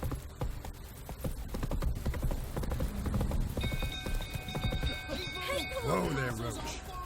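Hooves of the horse Roach clip-clopping in a video game, a steady trotting rhythm at moderate volume under spoken voices and background game sounds.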